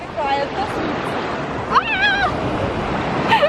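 Sea waves washing onto a beach shore, a steady rushing surf under people talking and calling out nearby, with some wind noise on the microphone.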